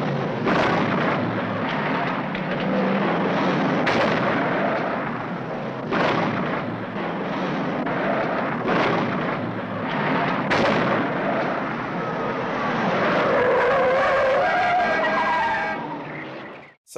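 Car chase scene from the film Bullitt: continuous loud engine roar with repeated tire skids and screeches, sharp impacts scattered throughout, and a long squeal building near the end, with no talking.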